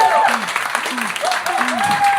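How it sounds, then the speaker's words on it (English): A live audience applauds at a comedy show, a dense wash of clapping heard up close, with a voice talking over the top. "keep that applause going"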